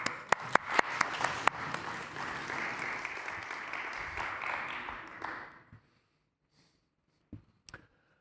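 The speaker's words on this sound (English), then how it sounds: "So please give him a round of applause." An audience at the DappCon25 conference breaks into steady applause for a speaker, sustained for about five seconds before fading out abruptly into near silence with a few faint clicks.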